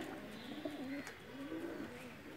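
A pigeon cooing nearby, soft throaty warbles repeating in a few phrases over light background noise.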